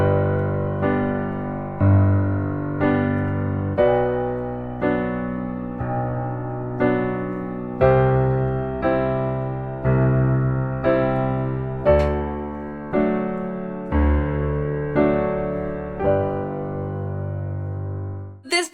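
A piano plays a left-hand ballad accompaniment pattern with the sustain pedal held, repeating rolling low chords in a steady rhythm that ring into each other, played alone without talk.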